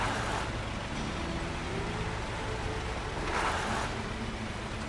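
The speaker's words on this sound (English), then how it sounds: "My engine is just that loud." Heavy Russian truck engine in the video game SnowRunner, a loud steady drone with broad rumbling noise that holds constant throughout, with no talking.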